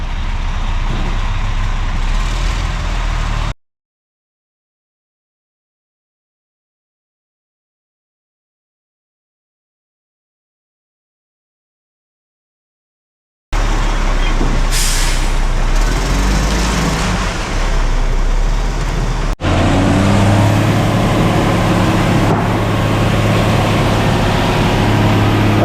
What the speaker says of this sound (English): getting the concrete truck right up to the farm